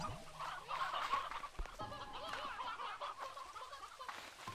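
Hens clucking in the video game Slime Rancher 2, a flock of chicken-like birds giving repeated soft clucks and squawks that overlap continuously at moderate distance, with no talk.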